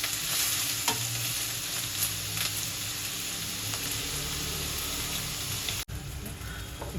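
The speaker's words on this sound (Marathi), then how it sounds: "कांदा आपल्याला एकदम ब्राऊन कलर होईपर्यंत परतायचा" Chopped onion stirred and frying in a pan for chicken kheema, browning steadily with a continuous soft sizzle and occasional scraping stirs, close and even throughout.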